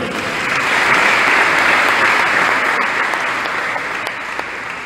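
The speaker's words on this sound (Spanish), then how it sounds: "Mi hermano, un aplauso para ti." Audience applause at a Neocatecumenal Way Advent proclamation gathering in Guayaquil, Ecuador, honoring a community member; a loud, steady wash of clapping from a full room that fades slightly toward the end, with no talk over it.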